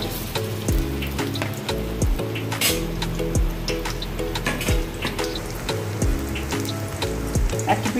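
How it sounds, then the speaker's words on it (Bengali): Sweet potato fritters (rangalu bora) sizzle steadily in hot oil, a continuous close crackle and hiss with occasional louder pops and spatters. "আমি 2 পিঠটি লাল লাল করে ভেজে নেব।"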